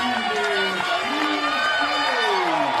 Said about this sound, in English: And Olasino gets a huge round of applause as she comes off.